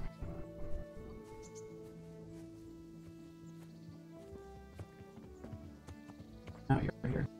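Horse hooves clip-clop at a steady walking pace in the medieval game Kingdom Come: Deliverance, close and fairly quiet under game music, with a voice speaking briefly near the end.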